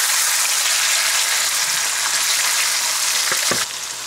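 Marinated mutton hits golden fried onions in hot oil, giving a loud, steady, close sizzle throughout, with a few brief clatters near the end before the level dips slightly.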